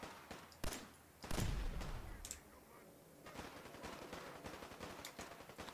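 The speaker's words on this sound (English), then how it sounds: "I think we're being shot at now" Gunfire from shooters in the video game Fallout, with super mutants in the fight: sharp bursts and a heavy blast ring out early, then scattered shots crackle on at mid distance.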